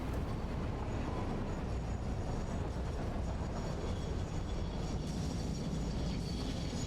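A train in the Satisfactory video game rumbling steadily past, a continuous dense rolling roar with a slight rise in brightness toward the end, no voices.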